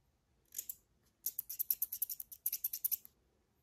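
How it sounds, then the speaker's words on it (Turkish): Small scissors in a fishing tackle kit, snipping close and crisp: one short snip, a pause, then a quick rhythmic run of about a dozen clicks, alone in a quiet room. "bir küçük bir makas tarzında bir şeyimiz var"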